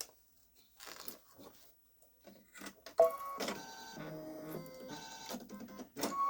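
A Baby Lock Solaris Vision embroidery machine sewing a satin stitch, close mechanical whirring and tonal motor whines in changing pitches that start after a few quiet ticks and bumps and keep running in stretches.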